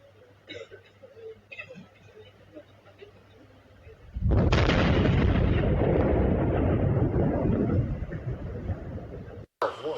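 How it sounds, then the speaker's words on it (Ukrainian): A quiet stretch of faint sounds, then a sudden loud explosion in Crimea's Bakhchysarai district that booms and rumbles for several seconds before fading, ending with a sharp cutoff. "Вибухи було чутно у багатьох селах Бахчисарайського району"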